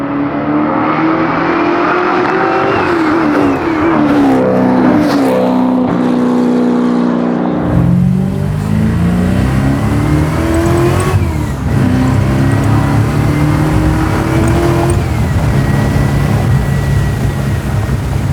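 Custom C3 Corvette with a 643-horsepower naturally aspirated LT1 V8, heard from close by as it accelerates hard through rising gears, a loud continuous roar that climbs, drops at each shift and climbs again.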